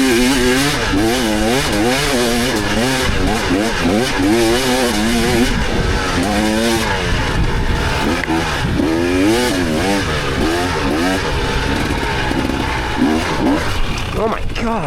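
A 2024 KTM 300 XCW two-stroke dirt bike on northern Arizona single track revs hard and wavers as its worn rear tire spins out, loud and close, with a rider talking over the engine.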